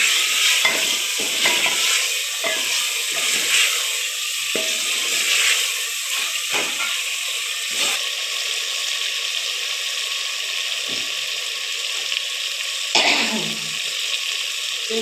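Chicken, about a quarter kilo, sizzles and fries steadily in a pot for a daal gosht, a continuous close crackle with occasional stirring scrapes and no talk.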